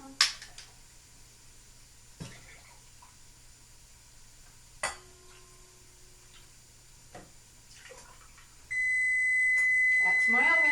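A kitchen oven sounds a steady, high electronic beep that starts near the end and holds on, after sparse clicks and taps during casserole preparation, with little talk around it.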